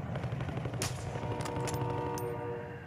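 Gunfire in the Warzone battle royale video game, including a sniper rifle, as a handful of sharp, loud shots crack over a dense, noisy wash of battlefield sound.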